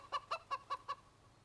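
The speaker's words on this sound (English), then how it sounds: "That was the loudest chicken I've ever heard in my life." Five quick clucks from a chicken in CS:GO on the Inferno map ring out in an even rapid rhythm, close and clear, then stop.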